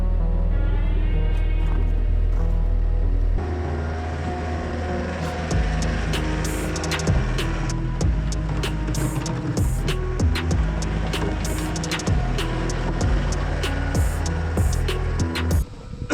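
A skid steer engine running on a farm during a winter storm: a steady, loud idle drone throughout, with scattered clanks and knocks over the engine hum.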